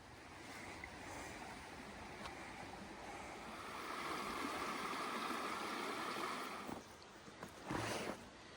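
Steady soft rain drizzling in Joryville Park, a continuous broadband hiss throughout, with a few brief louder patters near the end.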